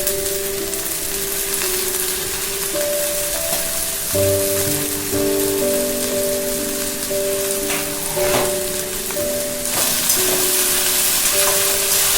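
Potatoes frying in a pan of oil before jute leaves are added, a steady close sizzle and crackle running throughout with a few louder spits and stirring scrapes, under a faint constant tonal hum.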